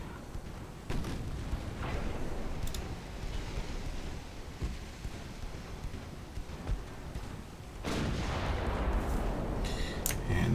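Naval artillery firing in an 1890s-era French campaign strategy game, a steady rumble of distant cannon fire with scattered sharp reports, swelling into a louder, denser barrage near the end.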